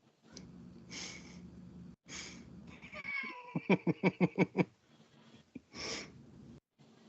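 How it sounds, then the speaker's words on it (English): A cat calls out close by with several meows, one of them followed by a quick run of rhythmic, chirping pulses, with short quiet gaps between the sounds. "He's a good cat."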